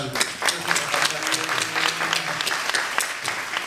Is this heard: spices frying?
no